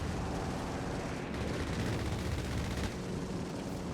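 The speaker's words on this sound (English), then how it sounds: "That strafe is going to kill you." An aircraft strafing run in the video game Company of Heroes 3 during a 4v4 match, a dense, continuous roar of rapid gunfire and impacts that stays loud throughout.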